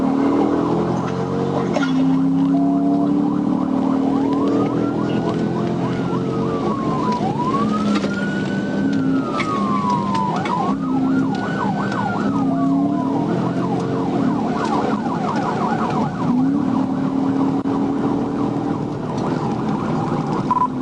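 Police car siren on an Arkansas State Police cruiser chasing a 4x4 truck, a loud, close wail sweeping up and down in repeated cycles over steady road and engine noise, with no voices.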